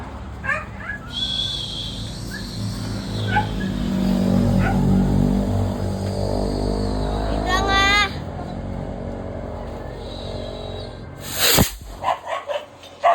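Dogs at a house on New Year's morning bark and yip, with several sharp barks and whimpers scattered over a rumbling background and a loud burst near the end.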